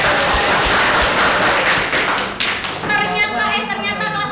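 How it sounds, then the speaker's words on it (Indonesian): Students in a music class clap their hands together, a dense burst of clapping in the first seconds that thins out, with a voice talking over the end. "Tepuk tangan dulu."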